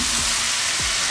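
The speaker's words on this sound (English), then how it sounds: "I'm gonna go ahead and mix it around" Broccoli and corn stirred around in a frying pan give a loud, continuous sizzle with a couple of brief scraping movements, close up and without speech.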